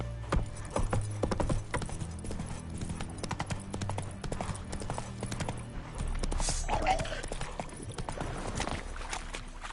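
A horse gallops in The Witcher 3, its hoofbeats pounding in quick succession, with a rider's shouts and game sounds mixed in, and heavier rumbling toward the end.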